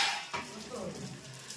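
Dal being tempered and stirred in a big pot in a communal kitchen at a Hanuman temple, with a steady sizzle and a sharp clank of a spoon or pot near the start, followed by continuous scraping and stirring.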